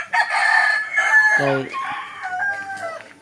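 A rooster crows loudly nearby, its long drawn-out call followed by further crowing phrases, with a brief spoken word in the background.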